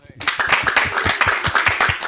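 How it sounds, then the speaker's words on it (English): An audience claps for a woman introduced at a school event in Burkina Faso, a burst of steady, fairly loud applause with distinct hand strikes and some talk underneath. "Let's clap for her."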